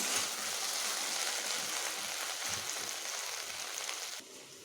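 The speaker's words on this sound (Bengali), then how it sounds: "ঢ্যাঁড়সগুলোকে আমি এখন এইভাবে ভেজে নিচ্ছি" Okra, also called ladies' finger, fries in a pan with a steady, soft, broadband sizzle that stays even throughout and eases slightly near the end, with no voices.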